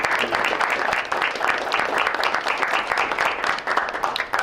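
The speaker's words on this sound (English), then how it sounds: "give Tom and the LHS team and family and community a big round of applause" A large round of applause at a school board meeting: many people clapping in a dense, sustained, fairly loud patter throughout.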